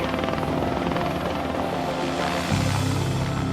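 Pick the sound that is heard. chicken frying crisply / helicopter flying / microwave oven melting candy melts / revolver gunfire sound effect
helicopter flying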